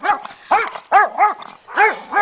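Small fluffy puppies in a house give a run of high, yappy barks, about six sharp bursts in quick succession, close and fairly loud, with no talking.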